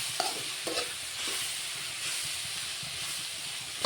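A Kerala thoran, a vegetable stir-fry, sizzles and hisses steadily on low heat, with occasional soft clinks of a spatula stirring the pan.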